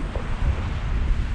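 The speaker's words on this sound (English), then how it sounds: "The wind is blowing 25 to 35 miles per hour." Strong wind of 25 to 35 mph with a high wind warning, buffeting the microphone by an urban ditch in winter, a steady loud low roar with gusty swells throughout and no talking.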